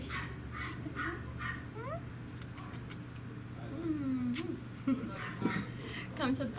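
A Great Pyrenees and poodle mix puppy whimpers and gives thin, high yips and short barks in scattered bursts at a puppy store, close by, with a person's voice murmuring in between.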